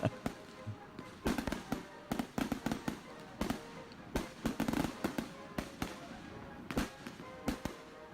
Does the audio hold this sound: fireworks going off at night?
yes